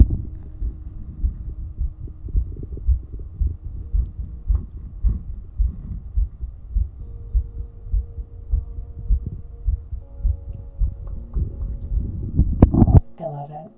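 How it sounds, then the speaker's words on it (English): A heartbeat thumps in a steady, regular rhythm, low and close throughout, with faint hum underneath and a brief louder disturbance near the end. "Is that your heartbeat?"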